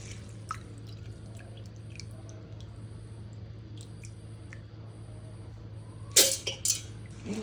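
Soaked sorghum grains and urad dal are washed by hand in water. Scattered drips and soft squishes sound against a low hum, then a brief louder splashing burst comes near the end.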